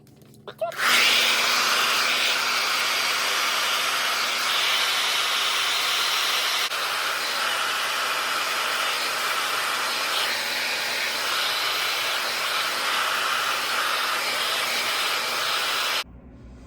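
A hair dryer fitted with a diffuser is drying curly hair, sending out a loud, steady whoosh of airflow that starts abruptly, carries on evenly for about fifteen seconds and then cuts off.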